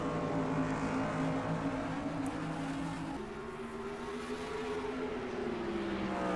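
Stock cars roar off the green flag in an ARCA Series race, the General Tire 200 at Toledo, run in the NR2003 racing game. A pack of engines drones loud and steady, with pitch shifting midway, and no one talks.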